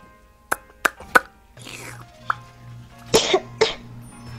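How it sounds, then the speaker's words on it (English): A person coughs several times in short, sharp bursts with pauses between, close to the microphone, including a throat-clearing rasp and a couple of heavier coughs near the end. "Cough it all out."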